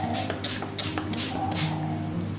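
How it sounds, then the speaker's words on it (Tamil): Several quick hissing spritzes from a spray bottle of vinegar water onto a kitchen stove, evenly spaced in a steady rhythm over a low background hum. "சோ இத வந்து நான் ஸ்ப்ரே பண்ணிக்கிறேன் அடுப்பு மேல"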